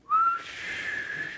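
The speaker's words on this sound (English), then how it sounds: "when you hear my whistle" A single clear, sustained whistle, starting with a bright rising note and then holding steady and loud for over a second, with no talking.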